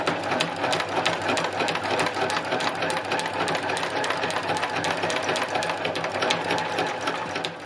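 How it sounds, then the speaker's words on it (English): A sewing machine stitches slowly and gently down through fabric from the top, a steady close mechanical whirring and ticking that runs unbroken with no talk. "all I'm going to do is stitch very slowly and gently from the top"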